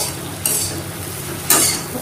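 Potatoes with poppy seeds frying in a pan, with a steady soft sizzle and two short bursts of scraping as the mixture is stirred, close and alone without talk.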